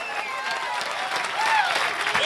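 A church congregation applauding during a worship service, a dense burst of clapping from a crowd that swells slightly partway through, with a faint voice underneath.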